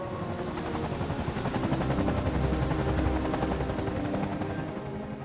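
Helicopter rotors beat in a steady, loud chop that throbs continuously at close range, swelling slightly in the middle with no other sound over it.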